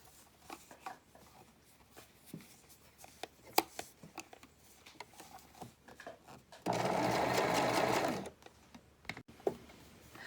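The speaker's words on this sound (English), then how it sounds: "I'm going to line my machine up so I am right on that previous line of stitching" A sewing machine runs in one steady, loud burst of stitching along a knit dress seam, with quiet handling and fabric rustle before and after.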